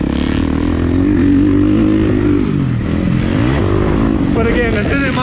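A 2019 Husqvarna FC350 dirt bike engine roars loudly and steadily during laps on a track, its pitch rising and falling with throttle changes, heard close up from the rider's position.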